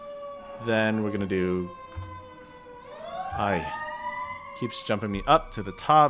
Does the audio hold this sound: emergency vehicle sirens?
yes